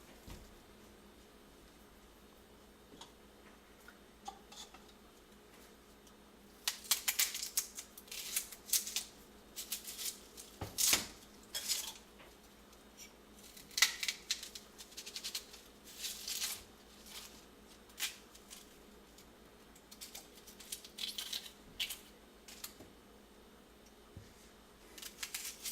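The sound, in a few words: cutting plum tomatoes, jalapenos and onions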